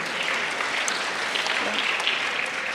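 Audience at a Vedic gurukul celebration claps steadily, a dense wash of applause that holds evenly throughout without voices on top.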